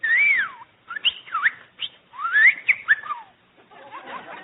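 A talking bird in an old-time radio comedy show whistles and squawks in a run of bright rising and falling calls with short gaps, fairly close and loud, with no talk over it.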